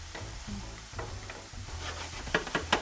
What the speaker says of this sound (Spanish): La cebolla está caramelizándose un poquito aquí